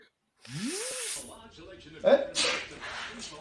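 A person sneezes once, loudly and close, on a late-night live show, with a rising vocal sweep before it and a sharp burst after.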